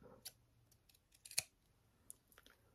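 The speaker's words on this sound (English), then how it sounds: "I'm not used to using such big scissors." Large sewing scissors snip through fabric and thread at a sewing seam, giving a few sharp, close clicks and one louder central snip amid quiet handling noise.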